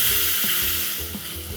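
Chopped tomatoes cooking in a pan with green chilli and cumin seeds, a loud continuous hiss and sizzle, close up with faint stirring scrapes and no talking.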